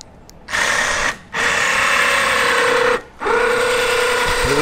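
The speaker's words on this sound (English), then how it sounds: "We turn on our winch." Electric winch on a DIY truck roof-top loader lifting a kayak, a loud close mechanical whir that starts, pauses briefly twice, and resumes in steady runs with no talk.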